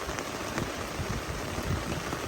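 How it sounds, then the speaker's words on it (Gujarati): Heavy downpour in Patan, Gujarat, pours down in a steady, dense hiss with scattered patters of drops, continuous and fairly close, with no voices. "પાટણ જિલ્લામાં અત્યારે હાલ ધોધમાર વરસાદ વરસી રહ્યો છે"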